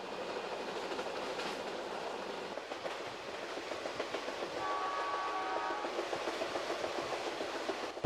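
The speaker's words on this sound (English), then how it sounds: "Our train, however, is moving on to Portland." Coast Starlight passenger train rolling along the rails toward Portland, a steady close rumble and rattle of the carriages with faint rhythmic clicking, a brief high whistle-like tone appearing midway.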